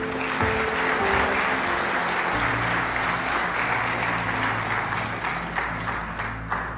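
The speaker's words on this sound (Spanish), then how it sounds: "¿Cuánto le dan un fuerte aplauso a nuestro Dios?" Steady, loud applause from a church congregation fills the whole stretch, with a faint low droning tone underneath.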